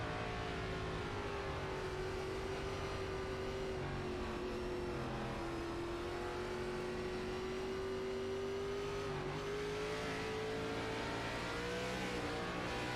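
Race cars in an ERSCA Belly Up Sports Series stock car race in Atlanta accelerate together at the green flag, a loud steady engine roar with rising and falling pitch across the whole stretch and no talk.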